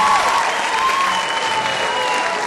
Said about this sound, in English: would you please join me in clapping for our ASB kids, please?